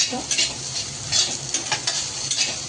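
Okra sautéing in a pan sizzles softly while a utensil stirs and scrapes against the metal in short irregular strokes, close and alone.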